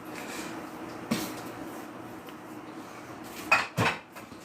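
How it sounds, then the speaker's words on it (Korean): Dishes and cutlery being washed in a home kitchen sink: faint background clatter with a few sharper clinks of plates and utensils, the loudest near the end. "어머님께서 여기서 그릇을 좀 씻으시는데"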